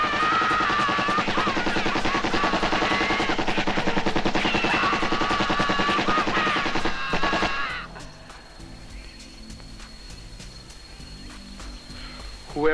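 Automatic gunfire from the action film Robowar: a loud, dense rattle of rapid shots over a jungle soundtrack for about eight seconds, then stopping abruptly and leaving quieter ambience with insect-like chirps.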